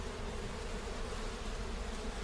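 Dense, continuous buzzing of many bees close by during a bee rescue at a residential property, a steady droning hum with no voices.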